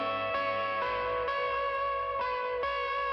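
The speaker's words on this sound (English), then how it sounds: "It's kind of buried in reverb, and then an octave up with a wah-wah pedal kind of opening." Sustained electric guitar solo drenched in reverb with a wah-wah pedal, played in a Pro Tools session; steady harmonic tones shift pitch every half second or so, loud and continuous with no voices.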